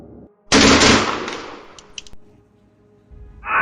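A gunfire sound effect from a tabletop battle report, one loud, dense burst of rattling shots that decays over about a second with scattered crackles after it, and no talking.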